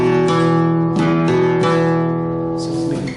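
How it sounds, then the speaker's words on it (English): Flamenco guitar with worn-out bass strings giving a dull tone, a few close strummed chords ringing out and slowly fading, no talking. "This is the sound of the already wear-off basses"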